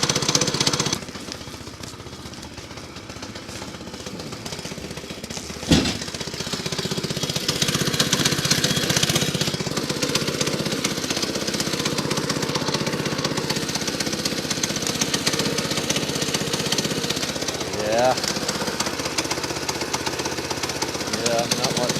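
Sawmill engine started with fuel on and full choke, a steady loud mechanical engine drone running continuously after a sharp start-up burst, with a person speaking over it.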